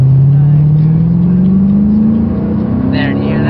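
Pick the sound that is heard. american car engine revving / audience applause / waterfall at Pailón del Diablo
american car engine revving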